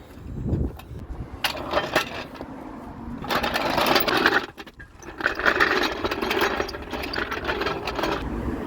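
A car jack lowers a wrecked Ford Focus after a home service, giving a close, rhythmic mechanical ratcheting and grinding in uneven bursts with brief pauses, loud and alone without voices.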